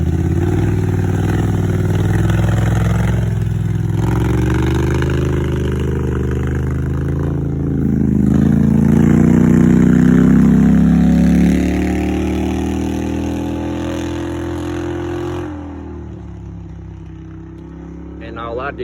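A Polaris 850 engine fitted with a cheap aftermarket exhaust idles with a throaty rumble, then revs up and falls back before cutting near the end, with people talking over it.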